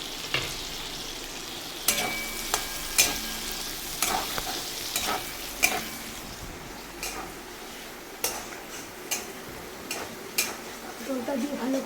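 Pointed gourd (potol) frying in a pan for doi potol, a low continuous sizzle broken by repeated sharp clacks of a utensil stirring against the pan, close by, with no talk.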